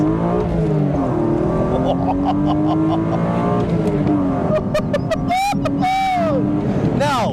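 A heavily modified BMW E36 drives past with strong engine tones rising and falling in pitch as it accelerates and shifts, loud and close, while someone talks over the engine noise.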